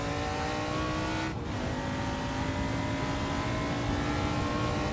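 An RTR Ford Mustang drift car, Adam LZ's car, runs loud at high revs during a shakedown at Airport Drift, its engine note a sustained roar with a brief dip partway through, heard close and alone.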